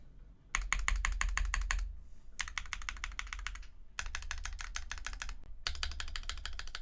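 Rapid typing on a Sangeo60 mechanical keyboard fitted with Tungsten switches: close, crisp clacks in dense bursts, separated by brief pauses, with no voices.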